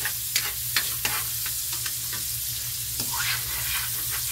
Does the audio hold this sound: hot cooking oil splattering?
yes